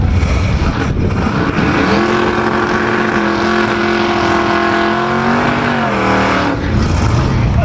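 Drag race between a blower-equipped supercharged 496 cubic inch Olds 442 and a 5.4 liter Mustang: a loud, sustained engine roar whose pitch climbs through the run, then drops away at the end.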